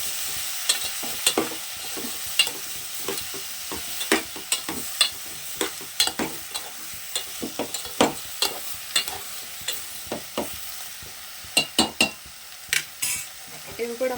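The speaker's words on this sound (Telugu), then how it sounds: "ఒకసారి మిక్స్ చేసుకుందాం" Spoon stirring a dried prawn and tomato curry with salt in a pan, a long run of sharp scraping clicks and knocks at an uneven rhythm over a faint background sizzle, with no talking.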